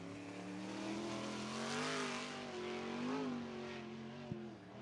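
A 360 sprint car running laps during qualifying at Cottage Grove Speedway, its engine a steady droning roar with rising and falling pitch as it circles the track at a moderate distance.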